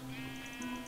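A sheep in the video game Minecraft bleats in a steady, tonal, buzzing cry that lasts about a second, close and clear, with no talking.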